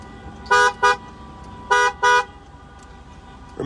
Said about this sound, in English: Wow, we have a traffic jam at the airport.